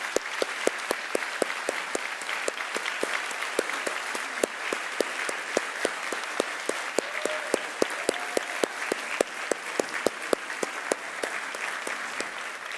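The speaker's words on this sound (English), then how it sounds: "we want to give you a big applause." Sustained applause from a lecture audience at the close of a keynote on CAG triplet repeat disorders, steady dense clapping with sharper individual claps standing out, continuing for the whole stretch with no talk.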